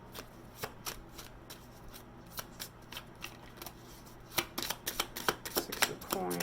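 Tarot cards are shuffled by hand at close range in a quiet room, with a series of crisp riffling snaps that grow denser and louder toward the end.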